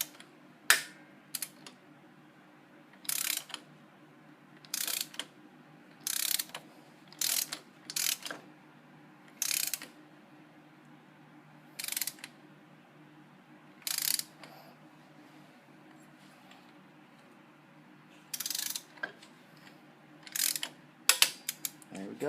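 A ratchet tightens bolts on an iron engine guard for a Honda CTX700N motorcycle, with short bursts of clicking spread across about twenty seconds against a low steady hum.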